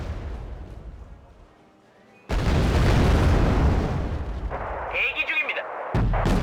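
Artillery fire and explosions from the war strategy game Wargame: Red Dragon: a heavy boom breaks in and leaves a loud, rumbling barrage with scattered bursts that keeps going, then a fresh blast near the end.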